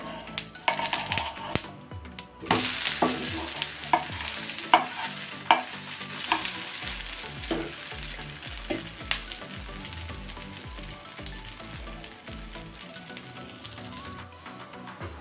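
Appam batter frying in oil in a pan, a busy crackling sizzle with scattered stirring clicks and scrapes close up, steady throughout with no talk.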